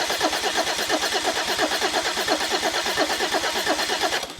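A Mercedes OM606 diesel engine cranked over on the starter, a steady rapid rhythmic churning that runs continuously at close range without catching, then cuts off at the end.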